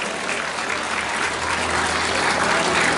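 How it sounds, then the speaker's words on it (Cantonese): Sustained applause from a crowd at a film premiere, honouring firefighters, steady and dense throughout with no pauses. "俾掌聲我哋全世界嘅消防員"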